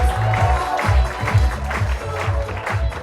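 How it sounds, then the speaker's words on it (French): Crowd at an open-stage comedy show claps and cheers, a continuous loud patter of applause with rhythmic surges and a murmur of voices mixed in. "faites encore plus de bruit pour Stéphanie Machard"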